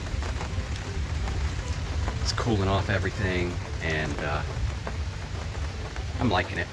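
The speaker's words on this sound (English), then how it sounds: "I do hear the raindrops" A light rain shower patters steadily on and around a parked RV outdoors, a soft continuous wash of drops with someone talking over it.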